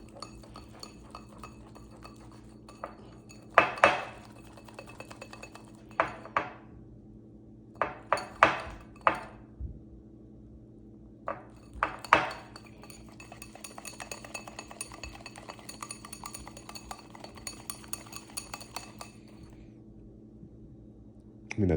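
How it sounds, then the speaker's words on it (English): Metal whisk clinking against a bowl while stirring fresh lemon juice into a lemon glaze for blueberry lemon biscuits, with scattered sharp taps and a steady faint scraping rattle over a low background hum. "And we're just gonna whisk that together."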